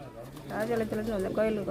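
Pigeons at a temple in Rajapalayam cooing in soft, rolling low calls that repeat steadily and close by, with a faint background murmur.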